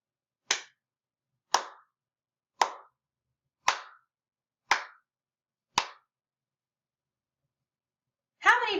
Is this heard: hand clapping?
yes